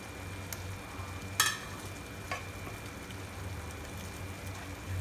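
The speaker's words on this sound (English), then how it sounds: "So in this stage, add the fried paneer or fried cottage cheese." Fried paneer cubes added to an onion curry in a pan, the curry sizzling and bubbling steadily up close, with a couple of brief clinks of a utensil against the pan.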